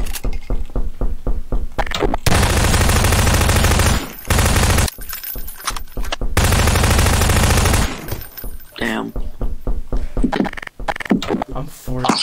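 Rapid bursts of Garry's Mod gunfire crack out in loud, dense volleys with short gaps between them, close and sharp.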